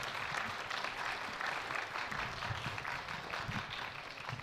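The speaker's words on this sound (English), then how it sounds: "give yourselves a round of applause." Steady applause from an audience at a school district spelling bee, even and continuous throughout, moderately distant, with no voices over it.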